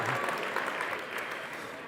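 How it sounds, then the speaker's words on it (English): An indoor audience at a mountain sports event gives a short burst of dense, steady applause that tapers slightly, with a faint voice underneath. "Let's clap for that"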